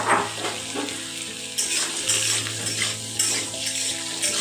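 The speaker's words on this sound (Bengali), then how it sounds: "আলুটা প্রথমে একটু ভাজা ভাজা করে নেব।" Diced medium potatoes fry in hot oil in a pan, a steady sizzle broken by repeated scraping and clinks of a utensil stirring them, close and fairly loud with no talking.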